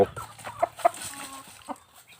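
Chickens on a beginner's small poultry farm clucking close by, a few short, sharp clucks scattered over quiet background, with no talking.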